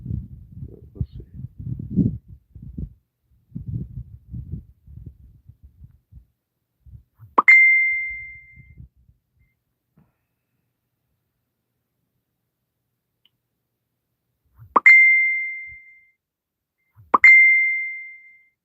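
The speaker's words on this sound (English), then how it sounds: "Messenger notifications, huh?" Three identical bright ding tones of a Messenger notification, clear and isolated against silence, spaced several seconds apart after a stretch of soft indoor shuffling and low rumbling noises.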